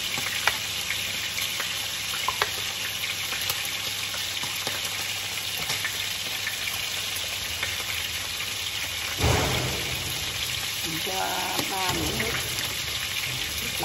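Chili fries in a pan with a continuous close sizzle and crackle for over ten seconds, then a brief surge of hissing and scraping as it is stirred.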